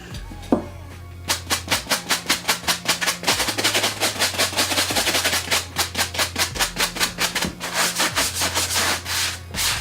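A brush scrubs a Nike Air Max sneaker in quick, rhythmic strokes, a fast run of close, loud scratchy rubs repeating steadily throughout.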